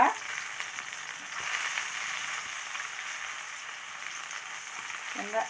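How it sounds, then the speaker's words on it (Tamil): Steady, close sizzle of sankara fish shallow-frying in a little oil, an even crackling hiss throughout with a brief utensil touch at the start and near the end. "கொஞ்சமாக எண்ணெய் ஊற்றி இந்த மாதிரி ஃப்ரை பண்ணிக்கலாம்"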